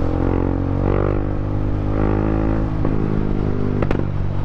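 Motorcycle engine of a Hero Xtreme 125R RR bike on a group launch ride, a steady loud running drone with rich harmonics, close by and continuous, with a couple of brief clattering knocks near the end.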